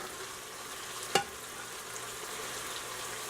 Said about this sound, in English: And I'm just going to give that a stir. Let those vegetables sweat for a few minutes.